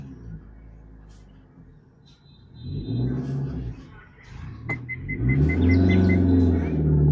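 A car engine idles and then revs up during driving practice while clutch control is taught, a low rumble swelling twice in loudness, with people talking over it.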